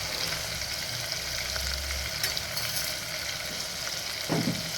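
Mutton sautéing in a pan with turmeric and salt for a stone-ground mutton curry. It gives a steady close sizzle with faint scraping and stirring throughout, and a brief louder stir near the end.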